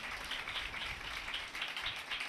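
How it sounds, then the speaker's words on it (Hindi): Loud, steady applause from a church congregation fills the space, a dense continuous wash of clapping with no voices over it. "जोरदार तालियां खुदा के जलाल के लिए"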